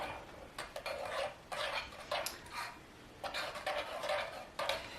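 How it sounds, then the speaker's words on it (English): A spoon stirs superfood powder into protein oatmeal in a bowl, producing faint, rhythmic scraping and clinking bursts with brief pauses between them, quiet and close, with no voices. "So add that in there, stir it up."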